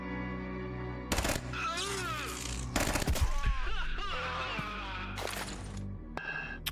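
Full-auto gunfire in the video game Quasimorph, with several loud, dense bursts of rapid shots separated by brief gaps, over game music and effects.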